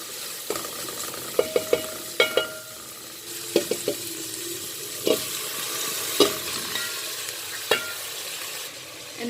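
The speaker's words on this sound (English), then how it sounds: "I'm going to add the mutton." Mutton being stirred and fried in a pot for Arabic maghlooba, giving a steady close sizzle broken by sharp scrapes and clinks of the spoon against the pot at irregular intervals, with no talking.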